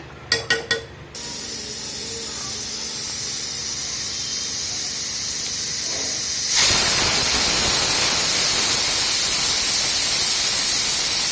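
A pressure cooker holding tamarind curry with ladies finger lets off steam, a few quick mechanical rattles giving way to a loud, steady hiss that grows stronger partway through and keeps going.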